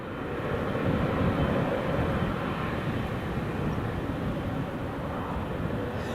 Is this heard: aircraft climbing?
yes